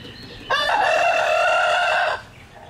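A rooster crows loudly and close by for about a second and a half, with other chickens clucking faintly before and after, outdoors on a farm.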